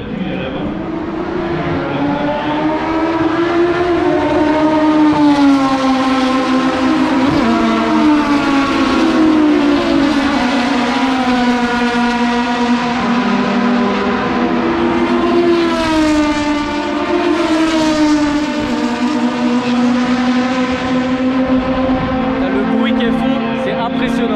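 Historic 1970s–80s Formula 2 race cars roar around Circuit Paul Ricard, their high-revving engines rising and falling in pitch as they accelerate and pass. The engine noise is loud and continuous throughout.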